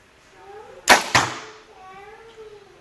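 A light arrow is loosed from a PSE Carbon Stealth 60 lb compound bow and strikes a target, giving two sharp, loud cracks in quick succession against a quiet background.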